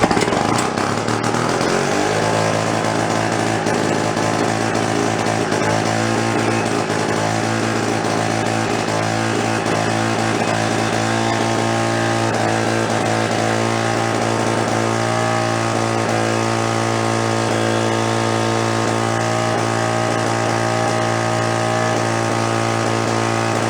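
An old salvaged generator engine found at a town dump runs loud and steady, settling after the first couple of seconds into a constant droning hum with a fixed pitch that carries on unbroken, with no one talking.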